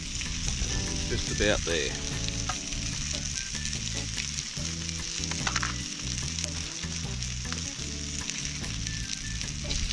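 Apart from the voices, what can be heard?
sausages (snags) frying in a pan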